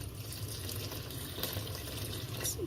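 Water pours into a blender jug holding compost scraps in an apartment kitchen, a steady splashing trickle with small bubbling bursts, soft and close.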